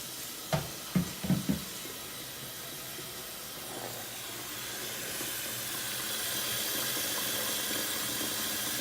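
A few knocks against metal, then water pours steadily into a cooking pot, a broad hissing rush that grows slightly fuller over time.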